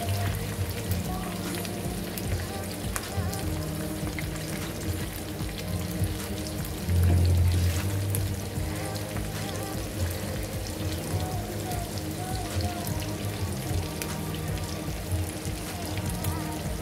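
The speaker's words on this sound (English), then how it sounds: "so I'm here frying them now" Steady sizzling and crackling of food frying in a pot, continuous and fairly close, with a brief louder burst partway through.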